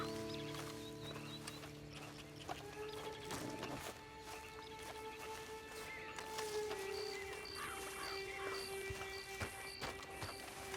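Horse hooves clip-clopping in the video game Red Dead Redemption 2, a steady soft rhythm of footfalls under layered ambient music tones and occasional bird calls, no talk.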